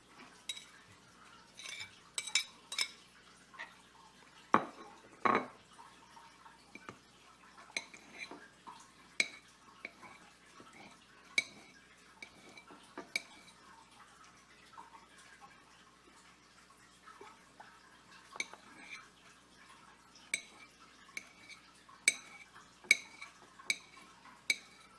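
Chopped boiled eggs scooped into a bowl for egg salad, with scattered faint clinks and scrapes of a utensil against the dish, irregular and close, with no talk.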